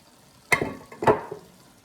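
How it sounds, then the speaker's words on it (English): Chopped celery hits a hot pot of gumbo base, giving two quick bursts of sizzling and clatter as it is added and stirred, close up and brief, fading quickly after each burst. "Hear that sizzling?"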